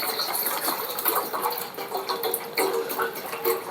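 Cold water pours and gushes steadily for a few seconds, with a fairly close, broad rushing splash and faint bird clucks in the background.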